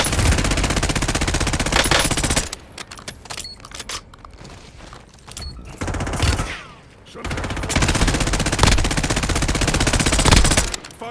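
Rapid automatic gunfire in Call of Duty Warzone rattles loudly in sustained bursts, broken by short lulls and quieter gaps before the firing resumes hard near the end.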